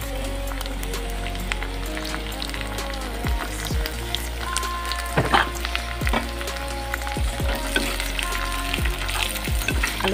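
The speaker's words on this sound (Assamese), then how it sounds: "আলুখিনি অকণমান মই ভাজি ল'ম" Potato pieces fry in hot oil in a pan, a soft, even crackle and sizzle over a low kitchen hum, broken by occasional scrapes of a spatula.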